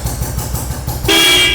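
A vintage motorcycle engine thumps at idle, then a sharp, steady horn blast sounds close and loud for about half a second.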